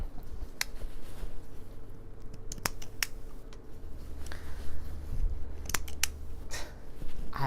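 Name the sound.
scissors trimming thread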